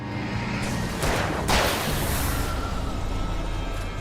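A flashbang grenade goes off in Alan Wake, a broad booming burst with a hissing wash that swells mid-clip and then lingers as a steady roar.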